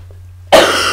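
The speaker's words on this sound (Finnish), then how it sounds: "No, nyt tulee taas yskäsy." After near silence, a single loud cough bursts out close to the microphone and trails off, heard during Minecraft gameplay commentary.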